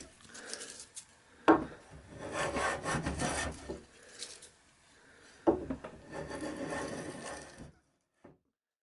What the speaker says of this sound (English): Here I'm flattening the pocket for the wagon vise.